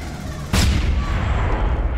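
A shotgun fires in a video game: one loud, close blast with a heavy low boom that lingers and rumbles to the end, with no talk.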